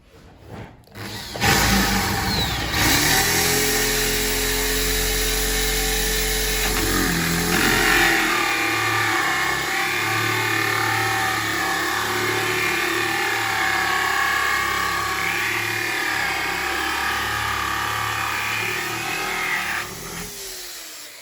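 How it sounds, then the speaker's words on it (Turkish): A hand drill bores a small hole through the back of a mulberry wood saz body where the soundboard grille will sit, a steady whine rising and settling with a low motor hum, then continuing as a grinding buzz until it stops. "kafes takacağımız yerden kafesimizden daha ufak bir kanla bir delik açacağım buraya ben"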